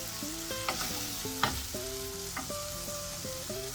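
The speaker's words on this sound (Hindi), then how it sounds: "टमाटर को अच्छे से हम मिक्स करेंगे कीमे के साथ" Tomatoes are stirred into mutton keema frying in a pan, giving a continuous sizzle with occasional spoon scrapes and knocks under background music.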